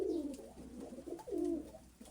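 Pigeons cooing softly in a row of low, rolling calls, faint and slightly distant over a quiet background hum, with no speech.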